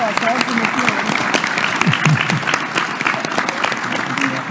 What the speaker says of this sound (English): I think you should start by giving the panel an applause.